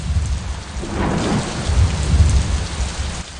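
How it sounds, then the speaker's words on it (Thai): A heavy storm in a Thai bedtime story: dense rain pours steadily while deep thunder rumbles swell and roll underneath, loud and close throughout, with no voices. "ฝน ฝน ฝนอย่าซับแรงเกินไป"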